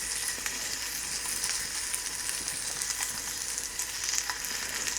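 A breakfast sandwich, flipped and browning, fries in a pan with a steady close crackling sizzle and scattered sharp pops throughout, no voices.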